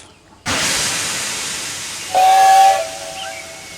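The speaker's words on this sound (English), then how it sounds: "Peter Sam says he was sure he heard a whistle" A loud hiss of escaping steam from a steam locomotive starts abruptly, then its steam whistle sounds a short shrill blast over it before fading back to the hiss.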